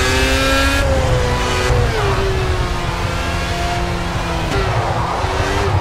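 Loud Indy car engines in the Project CARS racing game scream at high revs, with gear shifts dropping the pitch several times and a hint of tire squeal, no voice over them.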